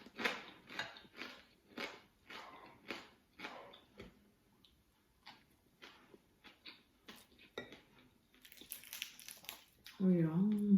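Someone bites and chews crunchy fried dumplings at a meal beside rice and ham shank, with sharp crunches coming in a steady rhythm, close to the mic, as bowls and cutlery clink now and then.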